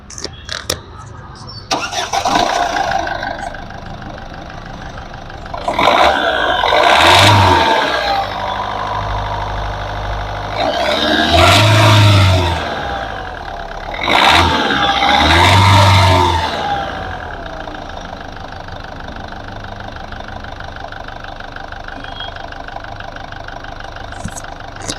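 Diesel Ford Figo with a TDCi Duratorq engine, cranked three times in a row, each attempt a loud churning surge that drops back to a steady idle hum.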